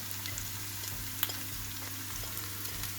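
Onions sweat in a modest pan over medium heat on the stove, a gentle, even sizzle that stays steady and quiet up close, with a single faint clink and no speech.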